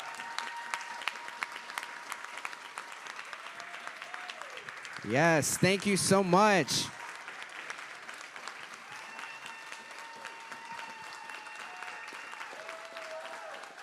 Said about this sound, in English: Give a round of applause for all four of the panelists and Rafael.